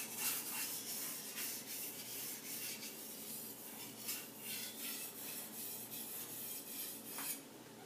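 A Takeda gyuto knife is drawn over a Japanese whetstone in repeated soft strokes. The grinding is quiet, close and steady, with faint rhythmic scraping and no voices.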